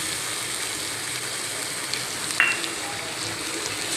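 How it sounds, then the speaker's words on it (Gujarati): Chopped cabbage, onion, carrot and capsicum sizzle steadily in a hot pan for fried rice, a close, even crackle with a brief metallic clink partway through and no talking. "હવે આ બધી વસ્તુને આપણે ચડવા દેવાની છે, ફ્રાય કરી લેવાની છે"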